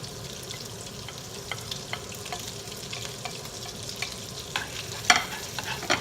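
Garlic fries in bacon grease for a shrimp stir-fry of rice noodles, a quiet close crackling sizzle broken by scattered ticks and scrapes of a spatula, with no talking.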